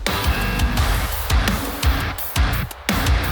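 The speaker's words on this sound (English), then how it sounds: "Right away, you hear that snare come to life." A mixed drum bus with saturation plugins engaged plays a punchy groove, the snare cracking sharply on a steady beat over thumping kicks and bright cymbals, loud and up front.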